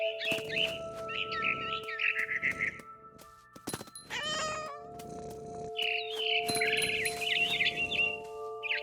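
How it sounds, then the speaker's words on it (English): A barn swallow in the game What Remains of Edith Finch chirps in bright, fluttering bursts through most of the stretch, alongside steady tonal game music, with a brief sharper trill in the middle. "It was a barn swallow going back to her nest."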